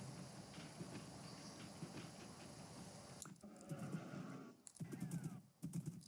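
Horse neighing and clip-clopping hooves in the Minecraft video game, several whinnies over a steady game background, with brief sound drops between bursts.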